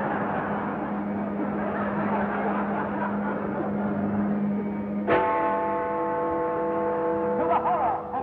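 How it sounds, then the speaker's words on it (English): A bell tolls solemnly once midway. The loud ringing strike has a long humming decay and follows a steady low drone, in a musical stage setting. "And solemnly tolled on his bell."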